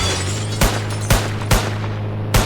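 Gunfire rings out in an Indian GTA V-style mobile game: four loud, evenly spaced bursts of shots over a constant low background hum.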